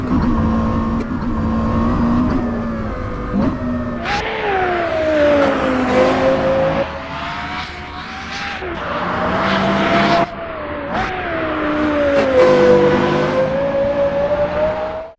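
A Porsche Carrera GT engine in the racing game Assetto Corsa, loud and close, with a high-pitched wail that repeatedly climbs through the revs, drops sharply at gear changes, and shows brief lifts off the throttle; no voices.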